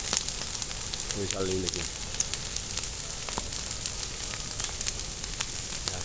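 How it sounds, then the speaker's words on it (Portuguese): A large São João bonfire crackles and pops steadily from start to finish, close and fairly loud, with sharp snaps scattered throughout and a person briefly speaking over it. "Fogueirão aqui, ó. Fogueirão de São João."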